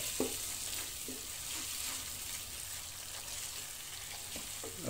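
Shredded cabbage with mixed pickle is stirred in a hot pan, giving a soft steady sizzle with occasional scrape and clink of the spoon, faint and continuous, with no voices.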